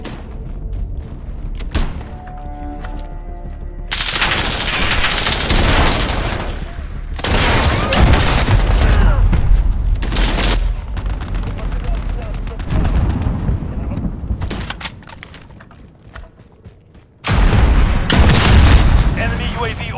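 Cruise missile strikes in Call of Duty Modern Warfare land as a series of heavy booming explosions with long rumbling tails, separated by brief lulls and interspersed with gunfire, loud and close, with some voices in between.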